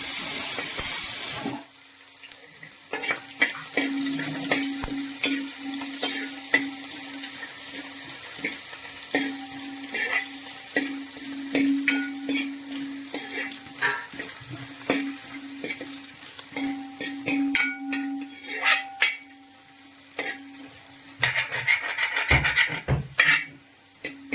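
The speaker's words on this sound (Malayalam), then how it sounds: "നമ്മൾ ചേർക്കുന്നത് വെളുത്തുള്ളി, ഇഞ്ചിയും നന്നായിട്ട് മൂപ്പിക്കാം." Garlic and ginger fry in a pan of oil as the base for a Kerala-style beef fry, a continuous sizzle broken by frequent scraping and stirring knocks of a spoon against the pan.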